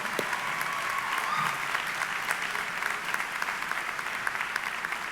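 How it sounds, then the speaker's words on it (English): A commencement audience at a 2022 college preparatory academy graduation claps steadily, a sustained, even wash of applause from a large crowd with no break. "we all need to give you all a round of applause for being here"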